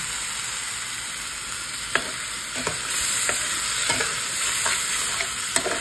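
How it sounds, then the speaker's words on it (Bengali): Spice paste of cumin, turmeric, coriander powder and salt fries in oil in a pan with chicken, a steady close sizzle broken by repeated scraping stirs of a spoon against the pan. "মশলা ভালো করে কষানো হয়ে গেছে, তেলও হালকা ছেড়ে দিয়েছে।"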